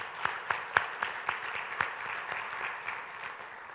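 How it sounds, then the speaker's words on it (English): A gathered audience gives a round of applause for everyone in a division with a strong safety record, moderately distant clapping with a few sharp individual claps standing out early before settling into a softer even patter. "I want to have another round of applause for everybody in the division"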